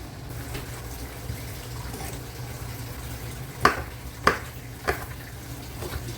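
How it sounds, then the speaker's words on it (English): Food is stirred in a pot at home, with soft scraping and light knocks of the spoon under a low background hum, including three sharper taps in quick succession near the middle. "Stir, stir, stir,"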